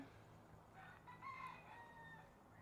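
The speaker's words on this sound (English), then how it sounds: "Maybe you're hearing that rooster crowing" A rooster crows once at a distance, faint and drawn out over a soft, steady background hum.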